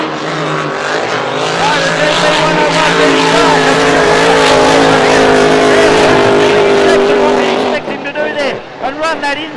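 A 2,000 horsepower racing boat on Lake Eppalock roars loudly and steadily down the back straight at a race, the engine note fading near the end under continuous excited commentary.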